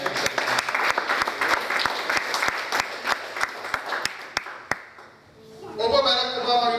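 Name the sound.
church congregation clapping hands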